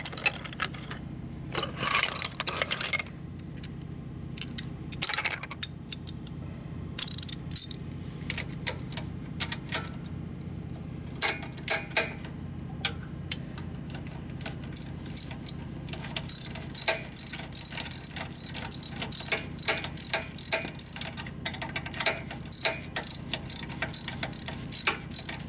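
A 1/2-inch ratcheting wrench turns a bolt on a 1972 Harley-Davidson Ironhead Sportster motor. It gives runs of quick, close metallic clicks in bursts, with short pauses between them.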